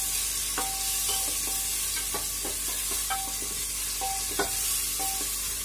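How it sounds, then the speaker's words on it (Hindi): Paneer cubes frying in hot oil in a pan while gently stirred, a steady soft sizzle under light scraping and tapping of the spatula against the pan, close and continuous. "हल्के हाथों से चलाते हुए पनीर को फ्राई करेंगे।"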